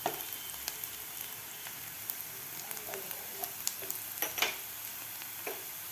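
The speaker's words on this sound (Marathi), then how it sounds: "कांदा आपल्याला 3 ते 4 मिनिट असा थोडासा गोल्डन कलर होईपर्यंत आपल्याला व्यवस्थित परतून घ्यायचा आहे." Chopped onion frying in hot oil in a pan, a steady close crackling sizzle with scattered sharp pops and a few soft stirring scrapes.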